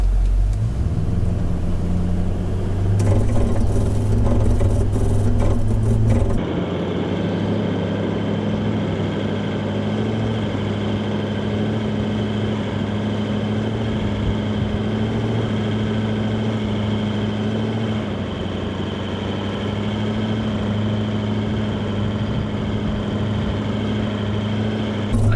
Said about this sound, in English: we're going to stick it into drive, activate the crawl control function, and we're going to turn it down to a low speed